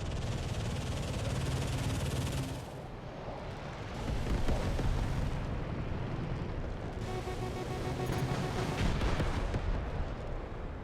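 An F-16's cannon and explosions in the combat flight video game Metalstorm make a dense, continuous roar of rumbling bursts. The din dips briefly twice, then swells again, loud throughout.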